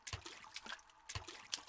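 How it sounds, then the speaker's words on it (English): Meaty water splashes in The Longing video game, two quiet wet splashing bursts about a second apart, with soft trickling and dripping in between. "Those are like some meaty like splashes though."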